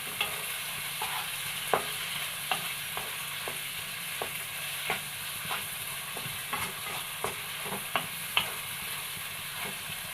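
Ingredients sautéing in a pan for chicken haneeth rice, a quiet, even frying hiss under repeated light scrapes and taps of a spoon stirring against the pan.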